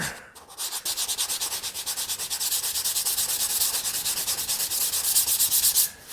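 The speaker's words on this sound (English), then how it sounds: "so just gonna sponge off the 36 grit cut" A 1937 Lincoln Zephyr car body being hand-sanded with 36 grit sandpaper makes a fast, rhythmic rasping of back-and-forth strokes, close and steady throughout with no talk.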